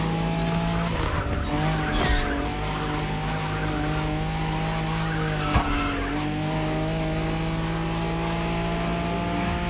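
Car tyres squealing through a long continuous drift in the racing game The Crew Motorfest, a sustained screech over a droning engine that holds steady for the whole stretch.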